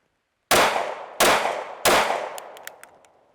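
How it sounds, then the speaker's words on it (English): A pistol magazine is dropped out three times during a malfunction drill, each release a sharp metallic clang with a ringing tail, about 0.7 s apart, followed by a few small light clicks as the sound fades. "Drop your mag."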